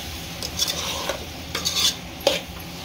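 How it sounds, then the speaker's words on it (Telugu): Cucumber curry seasoned with chili powder and salt is stirred in a pan, giving several scraping, rustling strokes in uneven bursts over a faint steady background, close and fairly quiet, with no voices. "ఇప్పుడు కలుపుకుందాం"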